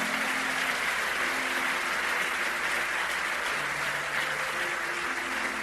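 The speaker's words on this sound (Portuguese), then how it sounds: "Aplauda Jesus aí." A church congregation claps steadily and loudly without pause during a sermon, a dense wash of applause with faint sustained musical tones underneath.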